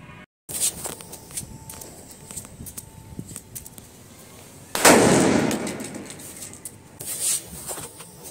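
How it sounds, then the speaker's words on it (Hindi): After quiet crackling and rustling, a single loud Cock brand anar bomb firecracker blast booms and rumbles away over a second or so, followed by a smaller burst later. "अनार बम ने तो एक नंबर धमाका करा है"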